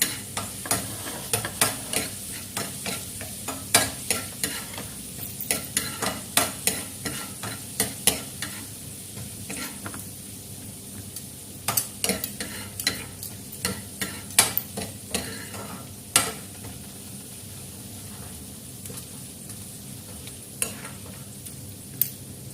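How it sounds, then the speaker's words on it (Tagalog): Garlic sautéing in a hot pan, a steady sizzle and crackle close up, broken by frequent clanks and scrapes of a utensil stirring against the pan, with no talking. "Gisa na natin yung ating bawang."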